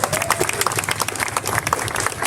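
Audience applause at a film music launch, a lively burst of many hands clapping close by, dense and uneven throughout.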